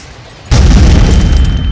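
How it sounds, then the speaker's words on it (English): A grenade goes off in a war-themed audio drama. A loud, sudden boom cuts in after a quiet start and rolls into a sustained roar of blast and debris rumble. "There was a grenade blast."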